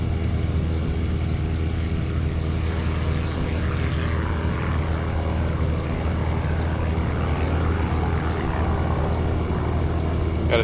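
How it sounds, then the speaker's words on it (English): Spitfire fighter aircraft in a multiplayer air combat game, heard as a constant loud propeller engine drone that fills the whole stretch with a low, steady throbbing roar and no break. "Got a Spitfire just over town."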